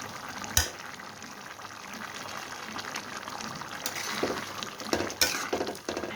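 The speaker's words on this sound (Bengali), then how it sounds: "আমি লাউ দিয়ে মাসকলাইর ডাল রান্নাটা বাগার দিয়ে দিলাম।" Fried onion tempering hitting a pot of lentil dal cooked with bottle gourd, a sharp burst of sizzle followed by steady bubbling crackle and a couple of louder spatters, close by with no talking.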